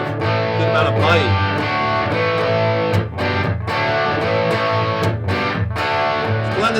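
Electric guitar played through a Fender Duel Pugilist pedal blended toward its lighter distortion side, giving sustained, loud chords with moderate gain and crisp bite, broken by a few short pauses.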